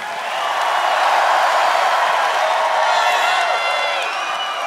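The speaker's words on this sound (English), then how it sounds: "Please give another big round of applause for this incredible cast." A live theatre audience applauds and cheers for the cast of a cabaret show, dense sustained clapping with whoops and shouts swelling then easing slightly, filling the whole stretch.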